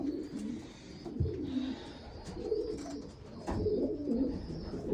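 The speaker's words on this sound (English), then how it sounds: "Very good pigeons." Pigeons in a racing loft give soft, repeated throaty coos close by, overlapping in a low murmuring rhythm with occasional wing flutters and light rustling.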